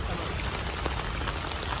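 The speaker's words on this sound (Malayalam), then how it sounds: "ഭയങ്കര മഴ" Heavy rain pours down in a steady, dense hiss that stays loud and unbroken throughout, with no pauses or distinct drops standing out.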